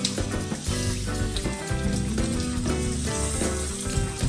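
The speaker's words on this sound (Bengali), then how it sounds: "সেগুলো এর মধ্যে মিশিয়ে দিয়ে ভালোভাবে ভাজব" Small pieces of fish roe fry with onion and potato in a pan, a steady close sizzle that continues throughout over a tonal background hum.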